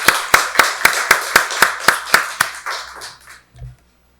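A church congregation claps in unison, about ten strong, evenly spaced beats that gradually soften and thin out before fading to silence.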